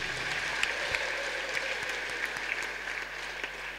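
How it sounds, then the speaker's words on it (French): A church congregation at a miracle night service in Bafoussam applauds and cheers, a steady wash of clapping from a crowd at moderate distance. "Est-ce que tu peux acclamer pour Jésus?"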